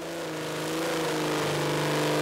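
Tuned Volkswagen Golf 2 engine revs steadily upward, a loud, rising buzzy drone with no talking over it.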